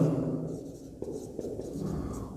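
A teacher writes on a board during a maths lesson, making soft scratching strokes in short bursts close by, with no talk.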